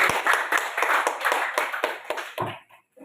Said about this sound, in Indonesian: Sekali lagi kita berikan tepuk tangan Bapak Ibu